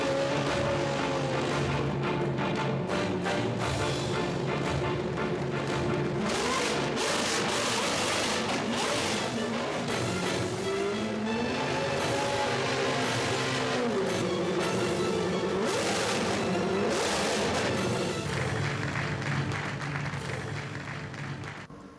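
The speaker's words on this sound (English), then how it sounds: "the sound of the car will be very," The Lebanon A1GP national race car, engine blaring very loud with rising and falling revs, mixed with crowd applause and clapping in a continuous, dense din.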